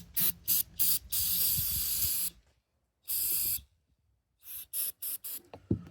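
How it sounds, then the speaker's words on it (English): Short hissing bursts of aerosol spray cleaning a 1976 Briggs and Stratton 3 hp carburetor, several quick blasts followed by a longer spray, a pause, another burst, then a cluster of brief puffs, close and clear. "I want to try to spray that off a little bit first"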